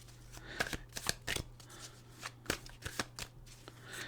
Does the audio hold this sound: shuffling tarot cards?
yes